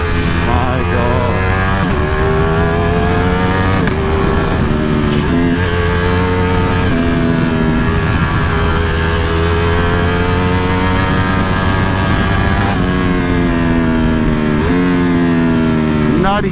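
A 2018 Ducati Panigale V4 S with a full Akrapovic exhaust, ridden in race mode, snarls loudly and continuously, its revs climbing and dropping in repeated shifts, with a rider's voice audible now and then.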